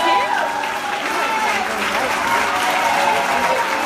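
An audience at a live gospel concert breaks into loud, sustained applause and cheering, a dense continuous roar of hands and voices close by.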